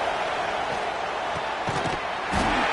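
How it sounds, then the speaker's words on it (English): A fired-up stadium crowd at a Longhorns vs Buckeyes football game makes a loud, continuous roar, swelling slightly toward the end, with faint thumps and shouts poking through. "It's early, but this crowd is fired up. Listen to this noise here."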